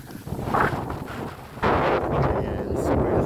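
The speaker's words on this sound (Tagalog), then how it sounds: "super lakas ng hangin dito" Strong wind at a high grotto lookout in Dingalan buffets the microphone in heavy, uneven gusts, rising into a louder sustained blast partway through.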